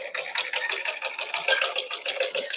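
A sewing machine stitches fabric for a homemade scrunchie, a close, rapid rhythmic chatter of needle strokes running steadily throughout.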